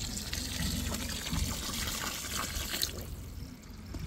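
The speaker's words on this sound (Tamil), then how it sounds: "தேவையான அளவுக்கு தண்ணி ஊற்றிக்கிறோம்" Water is poured into a mushroom gravy as it cooks, a soft continuous splashing and gushing fill that runs steadily and then tapers off, heard fairly quietly and without talk.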